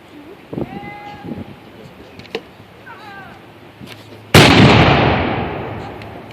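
A 2-pound Galloper, a light American Revolution infantry support gun crewed by the 7th Virginia Regiment of the Line, fires one loud, close blast whose rumble slowly fades, after a few seconds of scattered calls and small sounds.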